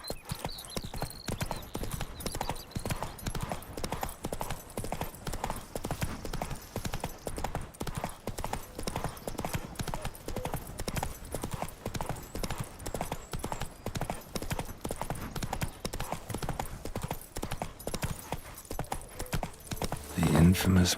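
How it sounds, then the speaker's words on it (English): Hoofbeats of a horse galloping in The Witcher 3 pound in a fast, even rhythm for about twenty seconds, loud and continuous, with a short whinny-like burst near the end. "Run, Roach."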